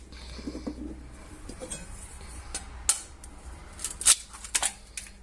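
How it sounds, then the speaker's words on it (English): Eggs are cracked with several sharp cracks and taps on a hard surface, a few close and crisp, with quiet kitchen clatter between them and no talking. "I might as well crack the eggs"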